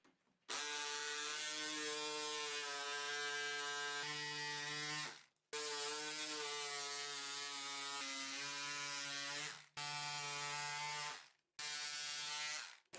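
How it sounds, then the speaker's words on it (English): An electric cutter trims a plug to size for an RC Harrier fuselage, producing a steady buzzing motor whine in four long bursts separated by brief silent pauses. "I use again this electric cutter and cut the whole plug"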